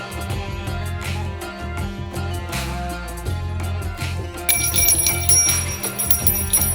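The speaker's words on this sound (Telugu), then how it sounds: "చెర్రీ గంట వాయిస్తున్నాడు" A hand bell rings repeatedly at a home Vinayaka Chavithi puja, its bright metallic peals becoming denser and louder in the second half over a steady background of other sound.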